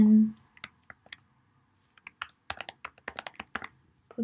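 Quick keystrokes on a computer keyboard, sparse isolated clicks at first, then a faster burst of typing, close and fairly quiet in a still room.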